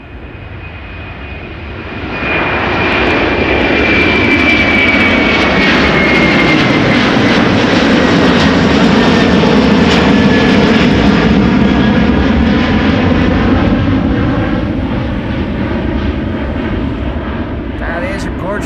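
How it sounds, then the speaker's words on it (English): A Saudia Airbus A330 jet airliner taking off at Amsterdam Schiphol, its engine roar swelling loud after a couple of seconds, with a high whine sliding downward as it passes, then slowly easing. "the Saudia A330 in the meantime taking off"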